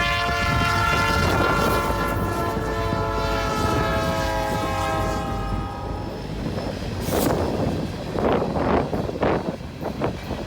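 BNSF freight train rolling past in open prairie near Granite Falls on a windy, overcast day, a long sustained horn blast sounding loud and close before the wheels and cars clatter by.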